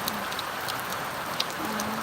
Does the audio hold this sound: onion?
no